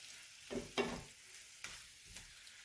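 Corned beef frying in a pan for a hash pie, a quiet sizzle broken by a few stirring scrapes and bursts as the meat is pushed around.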